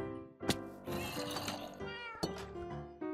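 Cats meowing in the Minecraft video game, several short close meows in quick succession, fairly quiet, with brief pauses between calls and no talking over them.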